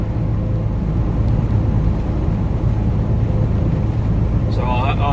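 A semi truck rolls down the highway after a tire was reseated on its rim, giving a steady, loud road rumble and engine drone throughout, with a brief higher whine near the end.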